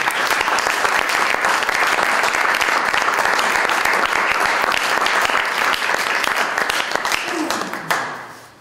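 Loud, sustained audience applause at a talk about "Così parlò Bellavista", a dense wash of many hands clapping that drops off sharply near the end.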